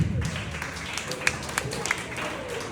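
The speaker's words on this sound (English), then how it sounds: "Could you please give yourselves a round of applause?" Schoolchildren at a Montessori nursery and primary school clap in a brief, loose round of applause with a few sharper claps standing out, a voice murmuring underneath.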